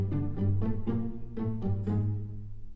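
Orchestral strings from the Soundiron Hyperion Strings Micro library move through a slow chord phrase, the notes blurring into one another with a roomy, washed tail from added reverb.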